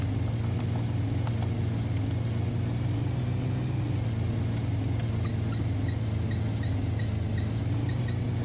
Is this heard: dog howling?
no